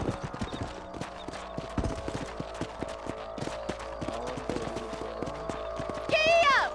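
Horses trotting in Red Dead Redemption, a steady clip-clop of hooves with game music and dialogue over it, and a brief whinny near the end.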